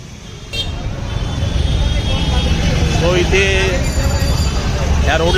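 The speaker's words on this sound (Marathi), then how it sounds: "खूप ट्रॅफिक आहे." Busy morning traffic on the ghat road near Dashashwamedh Ghat in Varanasi rumbles steadily, with a few short car horn toots breaking through and people talking over it.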